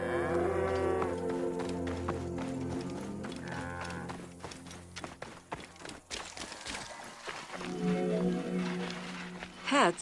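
Cattle lowing in the Assassin's Creed Origins game world, several long drawn-out moos rising and falling over a busy ambient bed with scattered clatter and footsteps.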